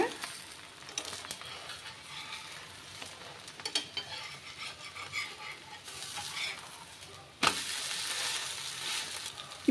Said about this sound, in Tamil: தோசை நல்லா மேலே பொறிஞ்சு வருது பாருங்கள்